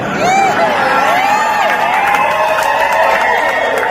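Lively crowd of spectators cheering and whooping as if at a Thai boxing match, loud and close, with shrill voices rising and falling over steady applause and chatter.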